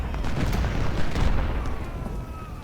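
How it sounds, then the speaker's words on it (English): Howitzer artillery fire in Ultimate General: Civil War, a continuous loud rumbling barrage of booms blending into a thick low roar with no voices over it. "Howitzers, please shoot at Horton."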